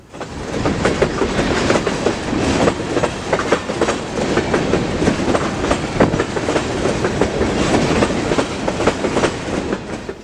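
A loud, close freight train on the Iowa Interstate thundering past with continuous heavy rumble and rhythmic clickety-clack of wheels over rail joints, shaking the ground.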